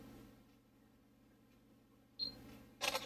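After a quiet stretch, a faint electronic beep is followed by a short synthetic camera shutter click from a Samsung Gear 2 smartwatch, soft and close.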